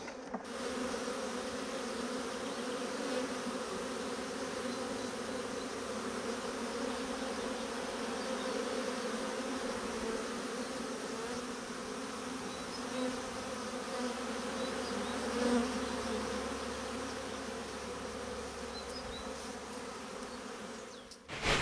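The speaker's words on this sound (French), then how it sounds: "un petit peu d'abeilles qui vont aller à côté" Honeybees shaken from a hive frame buzz continuously in a dense, close swarm for the whole stretch, a steady droning hum with no talking.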